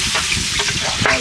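Rice frying in oil with whole spices for mutton tehari, a steady close crackling sizzle with stirring scrapes throughout.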